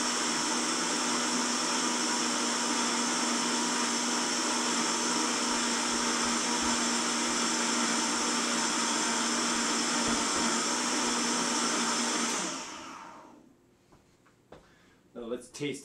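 Kitchen blender runs steadily on a Persian cucumber super food soup, a loud continuous whir that winds down and stops near the end, followed by faint clatter and handling sounds.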